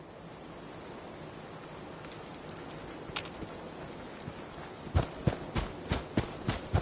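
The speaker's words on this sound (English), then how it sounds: "Hope this rain lets up soon." Rain in the video game Fallout 4, a steady hiss of falling rain and patter on surfaces, with footsteps stepping through it in the latter part, louder and closer toward the end.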